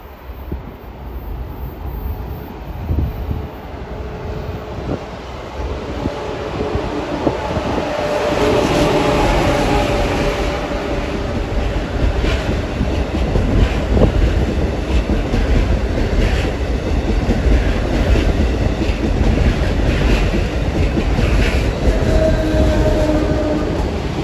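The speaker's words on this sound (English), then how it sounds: "that train is definitely not achieving its speedy potential through here" A train rumbles past on the tracks, loud and close, its steady roar and rattling wheels building and holding for a long stretch.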